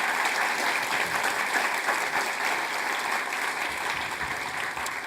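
Audience applause at the Festival of Tibet: dense, steady clapping from a large crowd, loud and continuous for several seconds with no voices on top.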